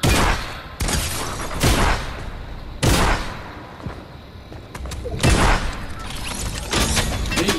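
Bursts of gunfire from the Fortnite video game crack out in several loud, separated volleys with booming low rumble between them, close and harsh.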